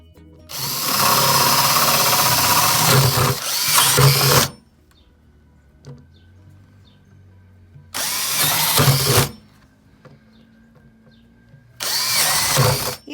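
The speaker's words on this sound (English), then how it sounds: "And the next thing I'm going to do is drill some holes in the bottom." Power drill boring holes through the bottom of a plastic bucket with a 3/4 inch bit, three loud close bursts of whirring and grinding separated by quiet pauses.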